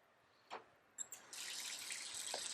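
A tap opens into a sink for washing, first a few brief clicks and knocks, then a steady, close rush of running water that fills the rest of the moment alone.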